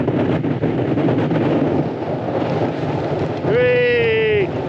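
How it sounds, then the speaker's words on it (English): Strong wind buffets the microphone in a steady, loud roar, with a rising whistling tone near the end. "It's quite friggin' windy."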